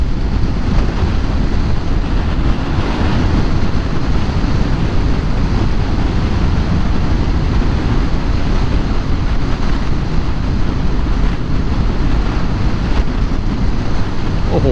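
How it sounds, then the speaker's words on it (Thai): Loud, constant wind buffeting the microphone from inside or on a moving car, a roaring broadband rush with no pauses while driving along a quiet road beside a Thai motorway on a Sunday evening. "ได้ยินเสียงลมไหมทุกคน"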